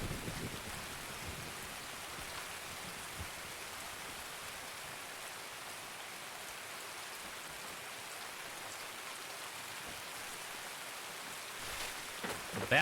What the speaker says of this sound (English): This rain is crazy. I think it rains every weekend in Tarkov